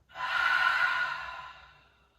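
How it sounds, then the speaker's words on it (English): A deep, slow breath during seated yoga for stress relief, one long airy exhale that swells quickly, holds, then fades gently over about two seconds, close and clear with no talking. "Big inhale. Big exhale."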